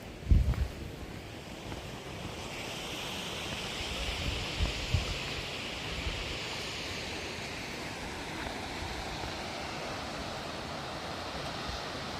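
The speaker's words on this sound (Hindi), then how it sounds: "भागसू वाटरफॉल।" Bhagsu waterfall near McLeodganj, a steady broadband rush of falling water heard from nearby, with a few knocks and handling bumps early on and no talk.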